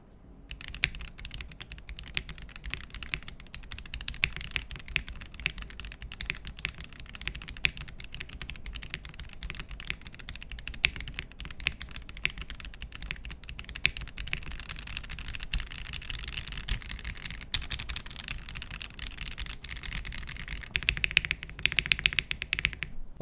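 Steady typing on an Aula F75 plastic-case keyboard fitted with a foam board, a dense continuous run of close keystrokes alone with no talk, getting slightly louder near the end.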